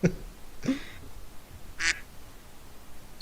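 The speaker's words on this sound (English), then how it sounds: "That's a duck." A duck gives three brief, separate quacks, moderately close against quiet background noise.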